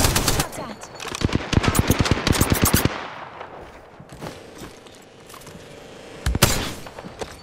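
Rapid automatic gunfire in Apex Legends, a near, sharp burst of closely spaced shots for about three seconds, then quieter background combat with a few scattered louder cracks later.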